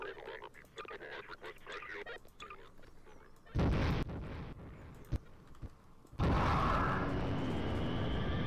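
Ion cannon weapon firing in Garry's Mod, two loud sudden blasts with a roaring, crackling tail, the second sustained longer, following quieter mixed game noise and some talk.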